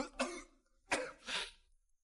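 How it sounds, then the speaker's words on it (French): A man named Monsieur Lin coughs twice in a dub of a Chinese fantasy story, after icy water burns his mouth. Two harsh, fairly close bursts come about 0.7 seconds apart, the second one longer and raspy, with no talk around them. "pourquoi toussez-vous comme ça?"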